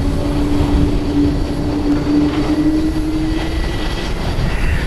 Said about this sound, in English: This is Skymark Airlines Flight 705 going to CTS. It's a Boeing 737-800, 13 years old.